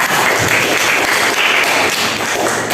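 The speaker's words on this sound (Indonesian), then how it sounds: "Tepuk tangan untuk kelompok 2" Classroom applause for a student group after its presentation, steady dense clapping from the whole room, loud and close, holding evenly throughout.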